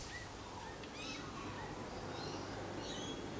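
Faint, high little calls from a baby owl outdoors, several short chirps and squeaks over a steady background hiss, with a little other bird chatter and no talk.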